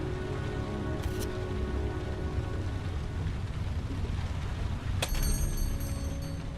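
Steady rain in a Heavy Rain video game scene, a constant hiss of drops on surfaces filling the whole clip at moderate level, with a couple of brief sharp bright ticks on top.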